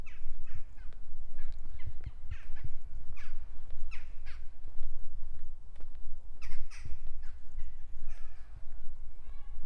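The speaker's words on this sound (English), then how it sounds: "And you may hear the birds already. They are singing away up in the trees." Birds chirp in short, repeated bursts from trees at an outdoor winter fair beside a car park, moderately near against a steady low background rumble.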